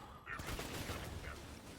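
The Cepheid weapon fires in the video game Borderlands 2, a quick run of gunfire bursts at moderate level.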